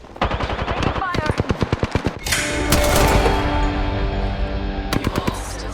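Automatic gunfire in the video game Apex Legends, rapid bursts of shots in quick rhythmic succession followed by a sustained loud barrage of battle noise, with another short burst near the end.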